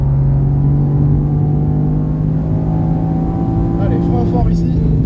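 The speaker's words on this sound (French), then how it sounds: "Et là, gaz à fond." A car engine on a race track at Mireval, droning steadily under full throttle as it accelerates, heard close from inside the cabin with a coach talking over it.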